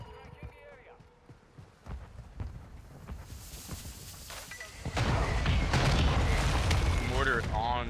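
Mortar shells in Call of Duty Warzone land as heavy booms that swell into a sustained, loud rumbling barrage in the second half, with people talking throughout.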